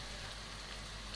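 Onions sautéing with a little salt in a pan give off a faint, steady low sizzle, soft and continuous, with no voices.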